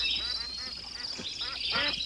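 Ducks quack in a rapid series of nasal calls, fairly close and steady, over background sound from a 1983 animated Wind in the Willows production.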